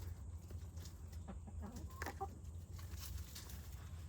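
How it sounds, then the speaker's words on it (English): A broody hen clucks softly in short, scattered bursts close by, over a steady low background hum with no talking. "So I'm not gonna move her, but broody hen."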